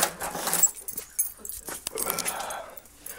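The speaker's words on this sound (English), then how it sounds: "Get my keys out." Keys for a 1993 BMW 325i with a dead battery jangle in a quick, close metallic rattle, with faint rustling and a brief murmur of talk.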